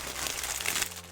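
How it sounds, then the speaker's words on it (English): Crinkling of the plastic bag a cosplay school uniform was shipped in, a steady close-up rustle and crunch of thin plastic for about a second, with no speech. "And it came in this plastic bag."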